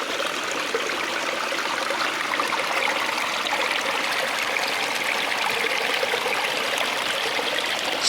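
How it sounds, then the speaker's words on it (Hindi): A mountain spring stream near Abbottabad flows steadily, a close, continuous rushing and trickling of water with no voices. "नीचे चश्मा बह रहा है भाई"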